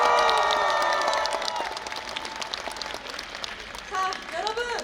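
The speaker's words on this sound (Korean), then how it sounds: "감사드리며 큰 박수 부탁드립니다." Crowd at a Democratic Party campaign launch rally in Gwanghwamun square, clapping and cheering at first, then fading under an announcer's amplified voice and background chatter.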